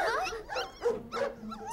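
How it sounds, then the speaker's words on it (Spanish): A cartoon dog gives a few short, sharp barks and yips close by, quick bursts with brief gaps over roughly two seconds. "¿Suenan como perros?"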